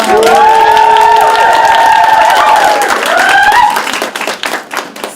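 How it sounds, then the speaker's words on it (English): A festival audience claps and cheers loudly up close, with shouts and whoops layered over dense applause that thins into scattered claps toward the end. "Give her a big round of applause"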